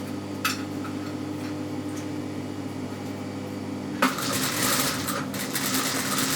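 A sewing machine stitches a seam with cord wrapped inside for a baby summer dress; a low steady hum runs first, then at the midpoint a brighter, busier rattling stitch takes over, close and continuous.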